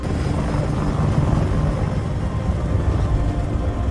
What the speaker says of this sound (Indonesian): mengirim helikopter serang Apache untuk menghancurkan senjata mortir musuh